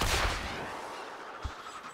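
A gunshot in the video game Warframe gives a sharp crack at the start, with a smaller pop about a second later, all fairly quiet and set against a soft noisy background.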